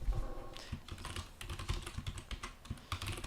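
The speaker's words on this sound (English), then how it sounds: "just type in your information" Quick, light keystrokes on a computer keyboard tap out in an uneven rhythm, close and clear, with small pauses between bursts of typing.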